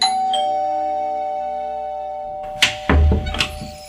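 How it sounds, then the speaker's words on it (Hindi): A doorbell chime rings out and slowly fades, followed by a few heavy thuds and knocks nearby. "थोड़ी देर बाद ही डोरबेल बजी"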